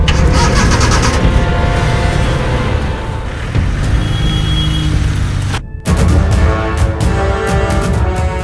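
A car engine cranks and starts while passengers climb in, running loud and close with a brief sharp cut-off partway through before the engine noise resumes.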